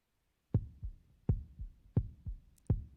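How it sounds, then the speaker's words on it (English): A heartbeat sound effect in a children's Bible story thumps four times in a slow, steady lub-dub rhythm, each beat a deep close double pulse, with silence around it. "Why is there a heartbeat in the well?"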